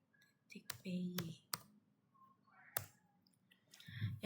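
Scattered clicks of typing on a computer keyboard while coding, a few sharp keystrokes and short bursts under quiet speech.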